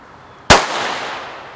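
An airsoft BFGX grenade dropped and going off: one sharp, loud bang that decays into a long hissing burst of gas, heard alone.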